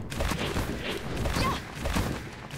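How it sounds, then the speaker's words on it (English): Cannon firing in the video game Bloodstained: Ritual of the Night, a dense burst of repeated booming shots and crackling impacts with game effects, fairly loud throughout. "Very special cannon."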